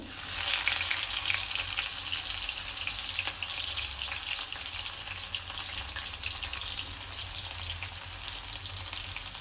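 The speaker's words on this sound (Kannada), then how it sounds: "ಈಗ ಜಜ್ಜಿರೋ ಬೆಳ್ಳುಳ್ಳಿ ಹಾಕೋತಾ ಇದ್ದೀನಿ" Crushed garlic, cumin and mustard seeds frying in hot oil in a pan, a steady bright sizzle with crackling pops throughout, no talking.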